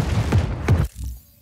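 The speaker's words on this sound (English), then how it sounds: "That's a lot of explosions!" Explosions in the video game Just Cause 4: two loud, heavy bursts in quick succession, then a quieter rumbling tail.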